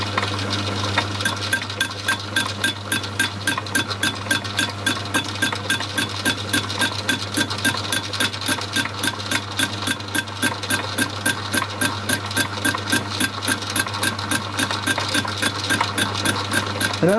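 A metal lathe takes very light cuts on a steam locomotive reversing lever stand part, a steady motor hum under a rapid, even ticking chatter that repeats throughout, close and continuous with no talk.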